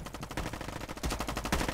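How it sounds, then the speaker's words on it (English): Rapid automatic gunfire in a shooter video game, a dense, loud stream of shots firing steadily in quick bursts with no voice over it. "just running around shooting people because that's more fun"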